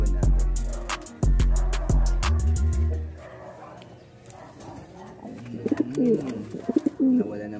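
Pet pigeons or doves coo in low, throaty calls, close by, alongside a few knocks and thumps, with someone talking at times.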